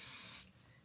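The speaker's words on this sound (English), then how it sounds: "What I want to do is just spray the perimeter" A spray bottle hisses a single short burst of mist onto the lace perimeter of a wig, close and crisp, then cuts off into quiet.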